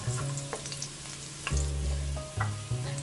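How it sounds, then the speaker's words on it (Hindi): Chopped garlic sautés in hot oil in a pan, giving a close, crackling sizzle that swells and fades as a utensil stirs it, with a few stirring clatters and no voices. "सबसे पहले अब इसमें गार्लिक ऐड कर लेंगे चॉप्ड और इसको 1 मिनट तक हल्का सा सॉटे कर लेते हैं"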